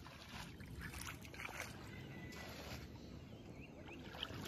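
A small wooden rowboat glides on the Dharla River in Kurigram, with soft water lapping and sloshing against the hull under a steady faint background hiss.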